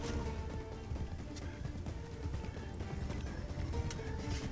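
Hooves clip-clop in a steady galloping rhythm over a busy Assassin's Creed III game soundscape, with a brief horse whinny mixed in.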